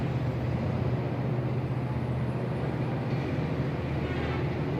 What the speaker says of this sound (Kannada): ಹೊರಟಾಯ್ತಲ್ಲಪ್ಪ ಟ್ರೈನು